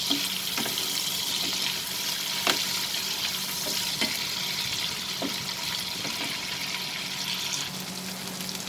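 Prawns frying over a high flame for prawn masala, a continuous close sizzle with occasional soft clicks and scrapes of a spoon, fairly quiet and with no talking.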